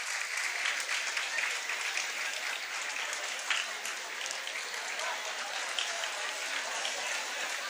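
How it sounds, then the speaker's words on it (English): An audience at a school felicitation ceremony claps for a geography teacher, a dense continuous wash of applause held steady throughout, moderately distant and without speech. "A round of applause for Pramod sir"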